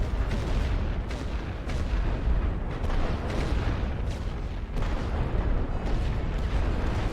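In a World War I trench-warfare strategy game, artillery booms and rumbles continuously, with dense overlapping blasts and thuds forming a heavy, unbroken barrage.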